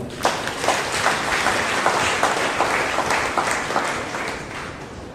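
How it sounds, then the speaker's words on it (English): Congregation at a Monday prayer meeting claps together in a full, close burst, the many hands carrying a loose rhythmic pulse that stays strong for around five seconds with no speech over it. "Please give mighty clap to the Lord."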